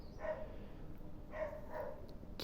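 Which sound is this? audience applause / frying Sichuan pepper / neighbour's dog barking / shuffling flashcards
neighbour's dog barking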